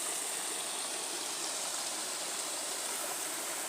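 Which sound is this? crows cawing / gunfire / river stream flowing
river stream flowing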